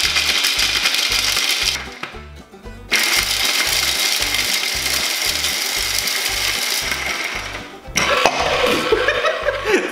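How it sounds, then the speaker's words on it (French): Kitchen blender chopping a nut mixture, a loud steady whirring motor with a pulsing low throb, cutting out briefly for about a second and then starting again. "on va en verser un peu dans notre mélangeur"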